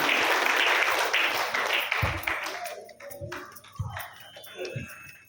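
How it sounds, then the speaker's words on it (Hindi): Indoor audience at a health-advice event gives a round of applause, dense clapping at first that thins into scattered individual claps and fades out. "और एक जोरदार ताली जहाँ भी ऑर्गेनाइजर जो टीम ऑर्गेनाइज की है इसके लिए"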